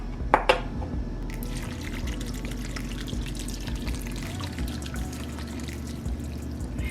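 Beef broth pours from a container into a soup pot for taco soup in a home kitchen. It makes a steady, close liquid splashing for several seconds after a couple of brief clinks at the start.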